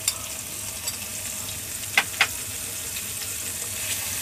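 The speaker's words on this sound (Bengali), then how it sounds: "তেলটা একটু গরম হয়ে এলে এর মধ্যে দিয়ে দিচ্ছি মশলা দিয়ে মাখিয়ে রাখা মলায়া মাছের মাথাগুলো।" Spice-coated mola fish heads fry in hot soybean oil with a steady, close sizzle. Two sharp clinks of utensil on pan cut through the middle, and there is no talk.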